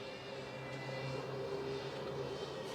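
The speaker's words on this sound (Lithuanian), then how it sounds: "Tai pažymėjau kaminą ir jisai gražiai dabar apskridinėja jį." A DJI Flip drone circles a chimney, its propellers giving a steady, faint buzzing hum that holds even and unbroken throughout, heard alone from some distance.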